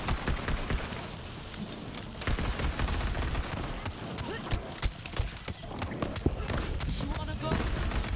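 Lucky 7 gun fired in a video game, bursts of rapid gunfire with reports filling the whole stretch, loud and dense, with game sounds and a voice running underneath.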